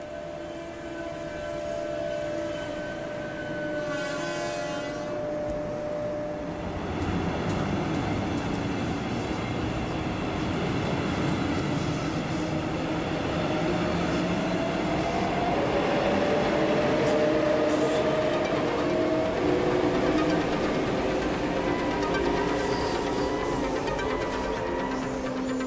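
A DB class 182 electric locomotive hauls an S-Bahn train on the S1 line into Königstein station in the Elbe valley. It approaches with a steady, building rumble and rolling wheel noise, plus faint tonal whines, and stays fairly close throughout.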